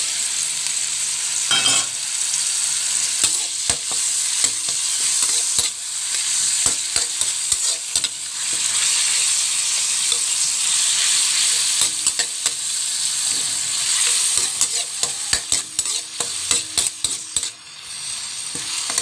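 Ground meat stir-fries in a pan for fried rice, a loud, continuous sizzle broken by repeated scrapes and clinks of a utensil stirring against the pan.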